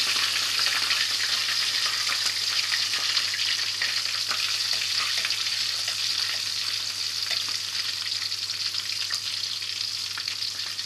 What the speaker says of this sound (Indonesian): Okay, sudah saya goreng.